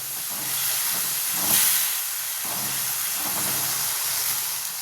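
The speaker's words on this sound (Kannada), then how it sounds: "ನೋಡಿ ಆಲ್ರೆಡಿ ಕುದಿ ಬರ್ತಾ ಇದೆ" A Davanagere-style mandakki masala mixture boils in a pot, letting off a continuous broad steamy hiss that swells briefly and then holds steady, close and fairly loud with no talking.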